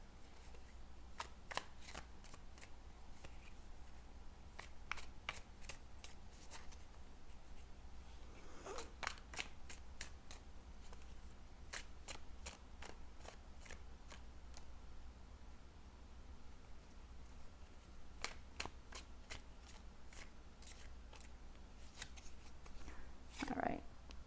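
Tarot cards being shuffled, quiet crisp riffles and flicks in scattered bursts against a soft hiss, with long gaps of near silence between them.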